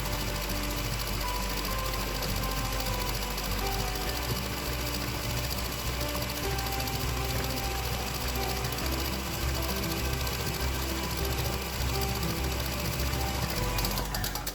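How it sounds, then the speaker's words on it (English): Stand mixer fitted with a paddle beating thickening royal icing in a bowl, a steady continuous motor whir with rhythmic mechanical churning throughout, close and fairly loud with no talking. "So we're just going to stop the mixer here"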